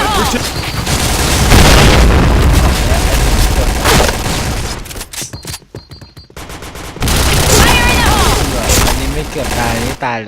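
Loud, rapid gunfire and booming explosions in the Point Blank shooter game, with dense bursts through most of the stretch, a brief lull in the middle, then heavy firing again.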